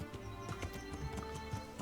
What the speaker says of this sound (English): So the horse can also jump.